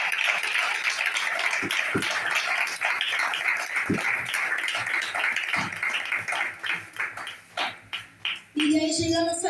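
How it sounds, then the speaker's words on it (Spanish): A church congregation claps hands during a Christian sermon, dense rhythmic applause filling the room at moderate loudness, then breaking into a few separate claps before a voice speaks at the end. "Hágale fuerte la palmas al Señor."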